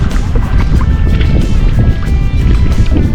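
Strong wind over open sea beside a small fishing boat after a storm, a continuous close buffeting rush with faint water movement underneath, no talk.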